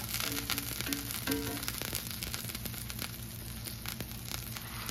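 Smash burger patties cooking in a cast iron skillet, a soft, steady sizzle with light crackle and a faint low hum underneath, heard without talking.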